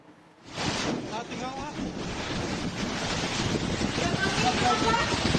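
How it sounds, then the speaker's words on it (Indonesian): Heavy rain with strong wind in the city of Cimahi, West Java, a dense, roaring wash of rain and gusting wind that starts abruptly and builds steadily, loud and close with buffeting on the microphone. "Hujan deras disertai angin kencang melanda wilayah kota Cimahi, Jawa Barat."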